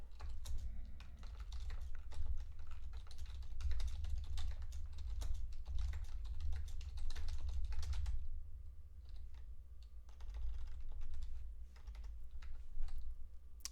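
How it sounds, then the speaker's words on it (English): Fast, continuous clicking of computer keyboard keys as a post is typed, close and moderately loud over a low background hum, with a short pause and then quieter, sparser keystrokes. "1 second as I type in the post on Facebook."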